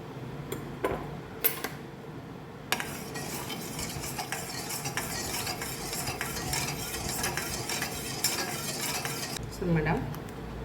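A spoon stirs a milk and cornflour mixture thickening in a pan, giving repeated scraping and clinking against the metal with a soft sizzle underneath, close and moderately loud, with a few sharper knocks near the start.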